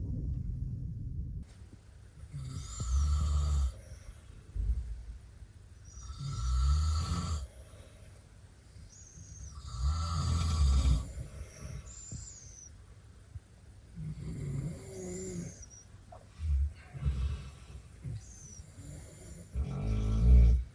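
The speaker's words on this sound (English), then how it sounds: "A cacophony of snores that will ring in my ears for nights on end." Several people snoring in a train car in Russia, in a slow, uneven rhythm, deep rumbling breaths rising and falling over a steady low hum, fairly close and loud.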